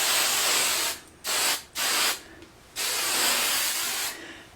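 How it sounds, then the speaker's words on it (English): A travel-size can of TRESemme Extra Hold hairspray hisses in four close bursts of varying length, separated by short pauses. "I would spray it. And I love this TRESemme Extra Hold Hairspray."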